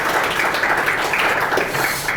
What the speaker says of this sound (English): quick round of applause for everybody